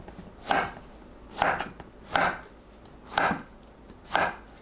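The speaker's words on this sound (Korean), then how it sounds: "반 자르고 불규칙적으로 큼직하게 썰어주세요." A knife chops through a round squash into large chunks, five firm thuds landing at a slow, even pace on a cutting board and ringing out close and clear, with quiet between them.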